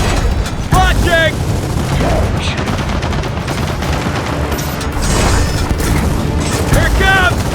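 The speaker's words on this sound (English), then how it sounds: "Launch the bombs toward the turret!" Bombs launched at a turret in the Gears of War 4 campaign explode in a dense, loud barrage of booms and gunfire, with shouted voices over the continuous roar.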